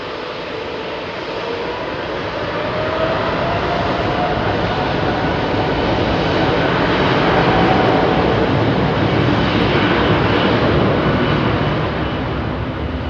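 A Virgin Orbit aircraft at Heathrow Airport at night, a loud, continuous broadband jet roar that swells slightly midway and then eases, with no voices over it.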